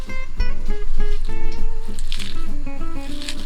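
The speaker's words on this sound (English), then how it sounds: "And then with my hands, I'm gonna massage it." Hands squeeze and massage chopped vegetables for a tofu burger, making wet squishing and crunching sounds close up, with no talk over them.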